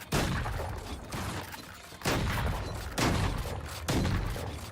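Shotgun fire in a multiplayer shooter video game, four heavy blasts spaced about a second apart, each decaying into a rumble, loud and close.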